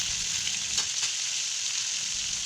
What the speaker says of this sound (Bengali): ওই তেলে আলু ফুলকপিগুলো দিয়ে দেব। আলু ফুলকপিগুলোকে একটু ভালোভাবে ভাজতে হবে,